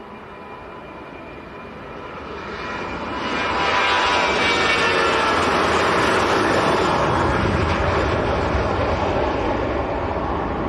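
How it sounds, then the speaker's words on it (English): A Ryanair Boeing 737-800 on its takeoff roll at Leeds Bradford Airport: a steady jet engine roar that swells in the first few seconds, then holds loud and broad through the rest, with no voices. "Ryanair to Krakow on the roll. This is a 737-800."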